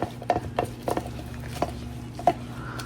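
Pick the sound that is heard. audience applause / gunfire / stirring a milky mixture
stirring a milky mixture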